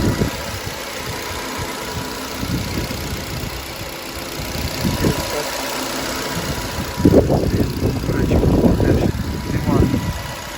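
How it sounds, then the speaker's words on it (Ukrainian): A 2009 Nissan Qashqai 1.6 petrol engine idles with a steady low rumble, growing a little rougher and louder toward the end. "Двигун працює рівненько."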